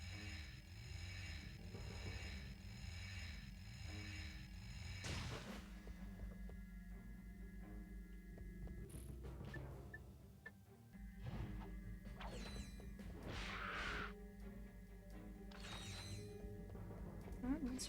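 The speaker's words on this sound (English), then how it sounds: "Another bolt crank." A bolt crank turns in Ratchet & Clank 3 with mechanical ratcheting clicks and clanks that repeat over steady game music, broken by a few sharp metallic hits.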